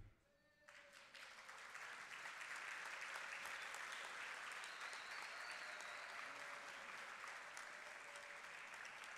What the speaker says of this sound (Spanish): Esos aplausos son para ti.